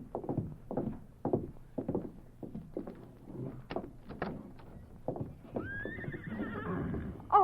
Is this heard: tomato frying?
no